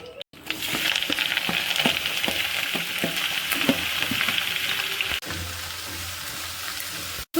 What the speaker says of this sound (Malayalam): ഉള്ളിയെല്ലാം ചേർത്തൊന്ന് വഴറ്റിയെടുക്കാം